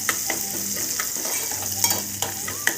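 Onion frying in a pan for a green chili capsicum masala, a steady broadband sizzle with a few sharp stirring scrapes and clicks scattered throughout, close and fairly loud with no voices.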